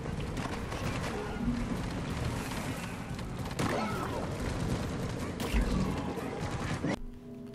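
Engineer sentry guns fire in the Deep Rock Galactic video game, a sustained, dense fusillade of rapid shots with booms mixed into busy game noise, continuing steadily before cutting off abruptly near the end.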